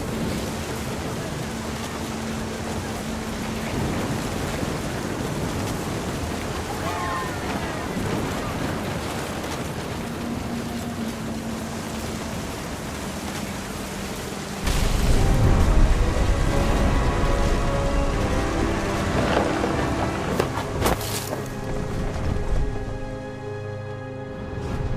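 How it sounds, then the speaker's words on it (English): A video game thunderstorm in What Remains of Edith Finch: steady, dense rain hiss throughout, swelling midway into a heavier, rumbling surge before settling again, with no voices. "The thunder sounded much too close and full of angry power"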